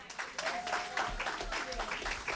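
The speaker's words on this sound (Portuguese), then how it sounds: "Vamos aplaudir, pessoal." Audience at a formal award ceremony applauding a Folia de Reis group, with fairly faint, scattered clapping in a large room.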